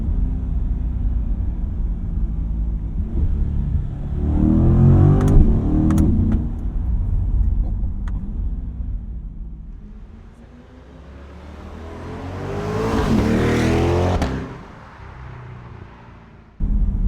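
A 2020 Chevrolet Corvette Stingray engine revs hard and accelerates, rumbling loudly, easing off, then climbing again to a high-pitched roar before dropping away.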